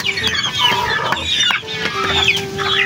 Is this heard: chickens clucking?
yes